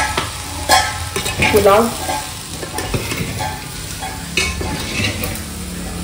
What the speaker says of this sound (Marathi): आता आपण ओपन करून मिक्स करून घेऊ